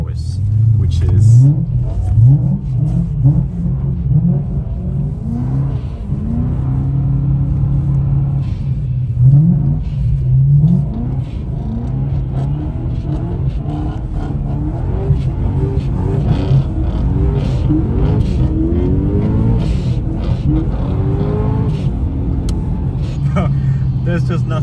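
Two BMW M3 E92 coupes drifting on Arctic snow, their engines revving and rising in repeated accelerating sweeps, loud and steady throughout with a rumbling low end.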